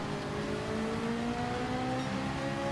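A race car in Gran Turismo 7 revs up through the gears, its engine whine climbing steadily and holding loud and close throughout, with no one speaking.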